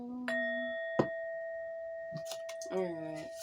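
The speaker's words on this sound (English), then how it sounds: "Alright, hit the bell." A small bell is struck during a spiritual divination reading, giving a couple of clear, ringing dings whose steady tone lingers under quiet background sounds.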